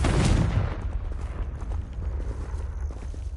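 Confringo blasting spell in Hogwarts Legacy, with one loud explosive burst at the start that fades into a rumbling, crackling tail and a quieter rhythmic patter of footsteps.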